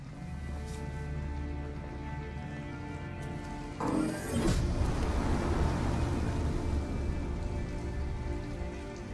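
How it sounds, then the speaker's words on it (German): Heavy rain falls in the video game Detroit: Become Human, a steady dense patter on surfaces with a low vehicle hum beneath and a sudden louder swell midway. "es regnet stark"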